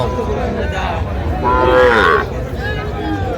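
A calf gives one drawn-out moo in the middle, close and fairly loud, with faint background voices and noise around it at a calf market in Chuadanga.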